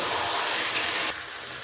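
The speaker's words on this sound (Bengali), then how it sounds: "তো প্রথমে মশলাটা একটু কষিয়ে নেব।" Masala frying in a pan for Bengali mutton kosha with potatoes gives a loud, steady close hiss that drops a little in level partway through, no talking.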